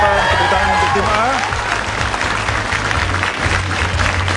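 At an SMAN 14 Jakarta quiz competition, the audience claps for team A in a loud, dense burst of applause, with voices and a musical tone underneath.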